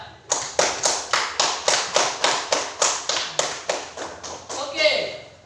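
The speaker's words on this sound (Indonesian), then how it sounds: "Tepuk tangan untuk kelompok 4." Classroom applause for a student group, a run of about a dozen sharp, evenly spaced claps from several pairs of hands, loud and close, fading into a brief scrappy patter at the end.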